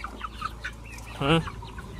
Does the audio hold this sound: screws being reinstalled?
no